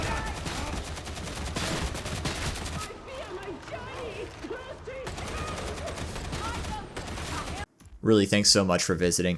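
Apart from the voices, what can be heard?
small arms gunfire in video game Warhammer 40,000: Darktide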